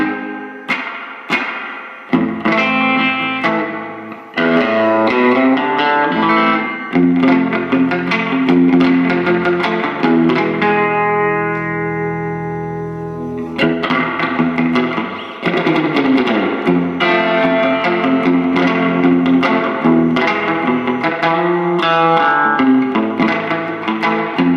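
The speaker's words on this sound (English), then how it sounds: "I do have a reverb here, also strumming." Electric guitar chords through a Fender Bassbreaker amp with reverb are strummed repeatedly with washy reverb tails, loud and close, with a sustained ringing chord in the middle before strumming resumes.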